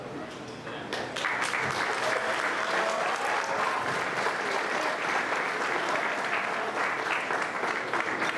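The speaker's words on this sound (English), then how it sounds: "Let's give a big round of applause to our chief." A large audience at the Unami Lodge centennial celebration breaks into applause, building within a second into steady, dense clapping that fills the room and holds at full strength.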